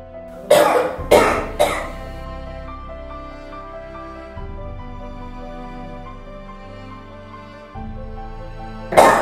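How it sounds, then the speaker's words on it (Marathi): A person coughs three times in quick succession, then coughs once more after a pause, each cough loud and close over soft background music. "अरे किती खोकलत आहेस"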